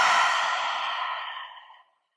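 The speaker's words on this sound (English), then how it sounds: "So just take a lovely deep breath in through the nose." A single long, deep breath through the nose, taken at the start of a yoga meditation, close and clearly audible, fading away over about two seconds.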